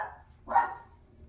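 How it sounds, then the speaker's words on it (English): One short, muffled bark from a dog indoors, a bit distant and moderately loud against a quiet room hum. "Disregard my dog."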